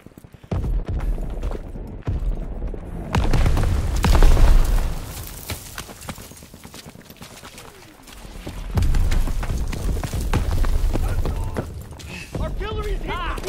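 Artillery explosions pound a beach during a World War II assault in the Call of Duty WWII game, heavy booms rising and falling across the scene beneath shouted voices and battle noise.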